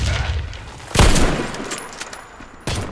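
A grenade goes off in the online shooter Warface, a loud booming blast followed by a second burst a moment later amid game gunfire noise.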